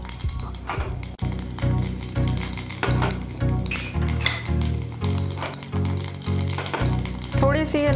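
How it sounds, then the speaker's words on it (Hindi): Cumin seeds sizzling in hot oil or ghee in a pan for a dhaba-style dal tadka, a continuous crackling fry with light metallic clinks of a spoon throughout. "अब हम इसमें ये जीरा डाल लेंगे"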